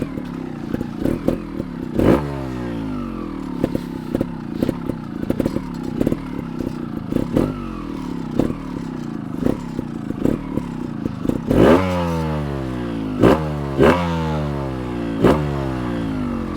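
A 2021 GAS GAS 300 TXT Racing two-stroke trial motorcycle engine revs up through repeated rising bursts, close and loud, each throttle blip climbing in pitch before falling back to idle, with sharp clattery transients between.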